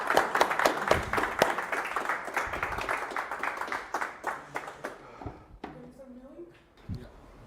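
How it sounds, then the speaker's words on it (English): Audience applause at an open-source community conference, a crowd of hands clapping briskly for several seconds before thinning to a few scattered claps, with a voice speaking as it fades. "an extra applause for our developer"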